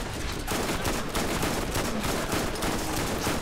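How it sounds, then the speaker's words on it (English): A cluster of grenades detonating in the Borderlands co-op shooter, a dense continuous barrage of overlapping blasts and crackling gunfire-like bursts, loud and sustained throughout with no pauses. "What a Murph is that it's basically a cluster of grenades"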